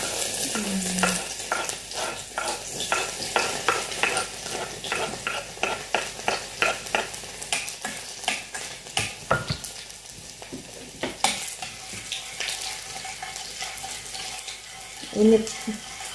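Food frying in a little smoking-hot cooking oil in a pan, part of making homemade shumai in New Zealand, gives a steady close sizzle broken by frequent stirring scrapes and clicks, with some water and sink noise late on.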